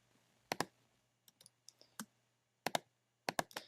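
Sharp computer mouse clicks in quiet surroundings, arriving singly and in quick pairs with short pauses between, close and crisp over a faint low hum.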